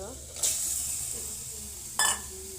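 Meat drops into spiced masala in a hot pan with sharp bursts of sizzling, two loud crackling surges over a low steady frying hiss, close up.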